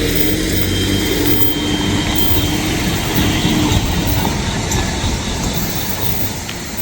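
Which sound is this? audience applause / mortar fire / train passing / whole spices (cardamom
train passing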